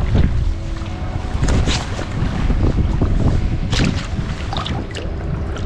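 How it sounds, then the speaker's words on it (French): Strong wind roars and buffets the microphone continuously, with water sloshing and boat-like rumble underneath, while fishing from a floating platform. "Le vent s'est levé"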